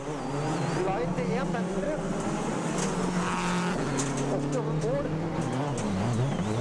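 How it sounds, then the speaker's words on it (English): Subaru WRC rally car at Rally Argentina, its engine roaring loud and close as it races past, with a commentator talking over the engine throughout. "the Subaru driver flashes past on the bottom of your screen there"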